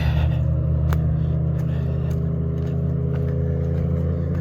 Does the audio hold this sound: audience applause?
no